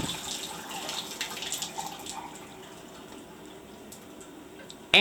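A hotel shower at a Best Western Plus in Estes Park, Colorado sprays steadily, then the hiss fades and stops, leaving near quiet before a sharp click at the end.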